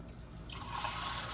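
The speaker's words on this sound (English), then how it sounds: "I'm going to put a little water," Water trickles in a short soft pour into a pan of barbecue pork neck bones, rising gently in the second half, faint and close, with no speech.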